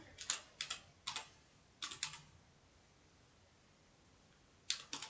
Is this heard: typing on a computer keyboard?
yes